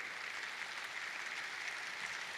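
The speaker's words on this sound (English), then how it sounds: "Let's clap for them." Convocation ceremony audience clapping, a short steady wash of applause heard faint and distant.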